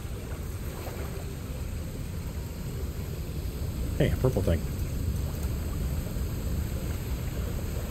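A waterfall in the video game Remnant 2 pours as a steady, loud, broadband rush of water, with someone briefly speaking over it midway.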